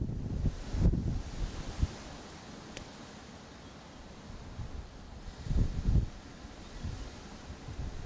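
Low, gusty wind noise on a safari buffets the microphone, swelling in a couple of stronger bursts over a steady rushing background.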